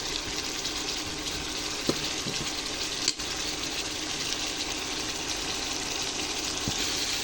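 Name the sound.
mutton bhuna sizzling in pan after adding tomato sauce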